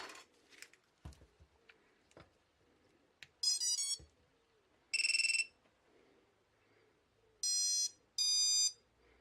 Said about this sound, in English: I've swapped out the buzzer and installed the new one